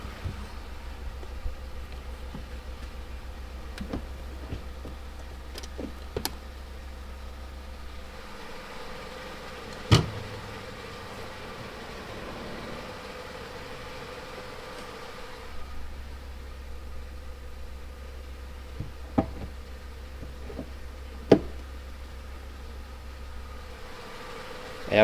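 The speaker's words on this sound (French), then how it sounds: "et la voiture a démarré." Volkswagen Polo engine idling steadily after starting, a low continuous hum with a faint background hiss and a few scattered small clicks and knocks, no talk.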